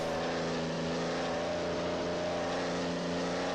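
A loud, steady vintage race car engine roar in a video game, from a 1934 Spanish Grand Prix, with a buzzing, harmonic drone, continuous and close throughout.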